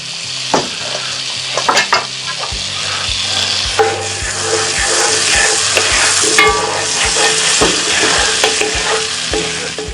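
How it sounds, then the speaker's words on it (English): A big chunk of Kerrygold butter and extra olive oil sizzle in a pan on an outdoor grill, making a loud, continuous frying hiss with repeated scraping and stirring knocks over a low background hum. "It's a big chunk of Kerrygold butter right there. Put a little bit more olive oil, just keep the butter from burning."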